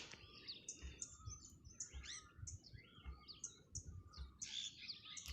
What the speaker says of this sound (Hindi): तो आप चिड़ियों की आवाज़ सुन सकते हैं, कोयल की आवाज़ सुन सकते हैं।